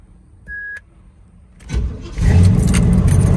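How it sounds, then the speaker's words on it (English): A short beep, then a 1985 Chevrolet C10 pickup engine cranks from cold and catches, settling into a loud, steady idle rumble. "Let me start it. It's a cold start."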